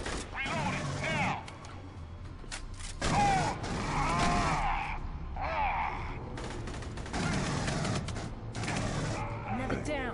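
Bursts of gunfire and rattling weapon noise from the video game Aliens: Colonial Marines come in uneven volleys, largely under someone talking over the action.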